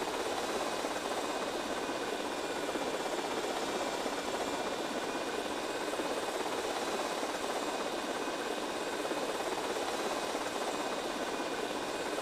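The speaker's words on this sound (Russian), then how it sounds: "Направить вертолет Арси на бомбу, чтобы ее взять" Radio-controlled helicopter flying during a bomb-carrying mission in GTA Vice City, giving a constant, loud whirring rotor and engine drone that holds steady for the whole stretch without any speech.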